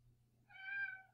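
A pet cat lets out one drawn-out, rising meow indoors at a newly moved-into house, fairly close and clear over a low background hum.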